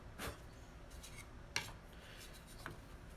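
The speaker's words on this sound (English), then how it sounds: "this requires, generally speaking, a wee bit more sanding, but not much" Sandpaper rubbing across the bottom edges of a wooden box to knock off burrs, a quiet close scratching that comes in a few short strokes with soft rasping between them.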